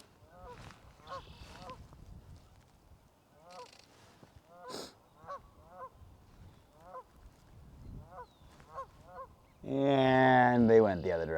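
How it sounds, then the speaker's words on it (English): Geese honk repeatedly in short, overlapping calls at a moderate distance as they come in to land on water, ending in a louder rush of splashing water. "It looks like there's a group of geese coming in for a splash landing"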